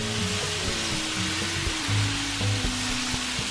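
Shrimp and vegetables for lo mein sizzle steadily in a hot pan, a continuous broadband hiss with a low hum and occasional thumps of stirring underneath.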